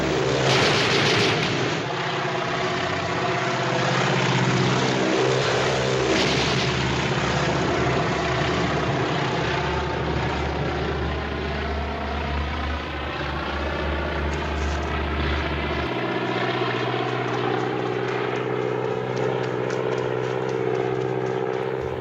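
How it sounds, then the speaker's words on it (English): A crop-dusting propeller plane swoops low over a cornfield, its engine droning loud and continuous with shifting pitch as it passes, heavy and close throughout. "the plane loosens this poisonous crop dusting powder"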